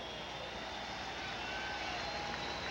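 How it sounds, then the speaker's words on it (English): A United States Coast Guard helicopter circles over Fenway Park before a baseball game, heard as a steady, fairly faint broadband engine drone above the ballpark that holds level throughout with no talk over it. "the United States Coast Guard helicopter circling the ballpark as Alan Embry warms up."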